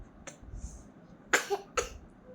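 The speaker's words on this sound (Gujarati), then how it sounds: "ખાંસી આવી ગઈ છે." A few short coughs from a young child being given medicine, two sharper ones close together near the end, in a quiet room.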